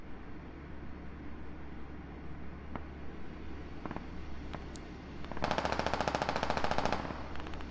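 Automatic gunfire in the video game Squad, a sustained burst of rapid rounds about two seconds long, loud over a steady low rumble, with a few scattered single shots before and after.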